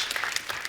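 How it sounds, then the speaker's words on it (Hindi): Brief burst of applause from a studio audience greeting a film's star cast on The Kapil Sharma Show; a short, dense patch of clapping. "जोरदार तालियां सबके लिए"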